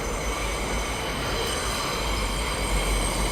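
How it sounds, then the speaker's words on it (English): An elevated overhead train rumbles past in a New York City neighborhood, a loud, continuous roar of wheels and cars with faint squealing, filling the whole stretch with no voices. "this overhead train thing"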